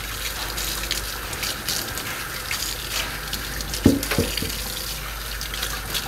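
Lukewarm water runs from a kitchen tap into the sink in a steady, moderate gush, with a brief clunk partway through.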